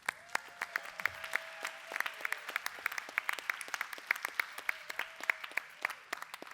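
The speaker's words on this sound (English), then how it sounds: "Can we give them a round of applause?" An audience at a summit and festival gives a grant team a round of applause, a steady patter of many hands clapping in a large room with sharp individual claps standing out, lasting several seconds.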